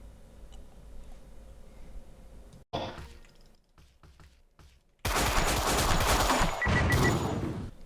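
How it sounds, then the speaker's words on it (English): A minigun fires in a video game as a loud, dense continuous burst in the final seconds, preceded by a short sharp volley and some scattered quieter shots. "Now for the minigun, it's best to use it long range and mid range as well."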